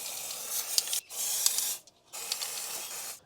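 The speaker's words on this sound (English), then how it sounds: "I'm just going to spray some dry lube on all those points now, which should stop that from ever squeaking" An aerosol can sprays dry lube onto the SuperSprings suspension of a Ford Transit van conversion in two long hissing bursts split by a short pause, close up and steady, with no speech.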